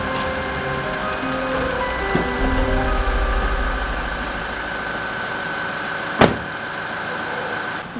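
A car engine idles steadily nearby in an emergency rush to take someone to the hospital, with a low rumble throughout and a sharp door-like thud late in the clip.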